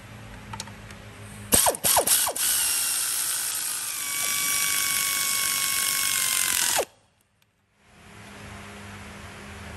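Ratchet wrench tightening bolts on a Ford Everest tail-shaft CV joint: a few quick clicking strokes, then a sustained high metallic whir that cuts off abruptly, close and loud with no voices.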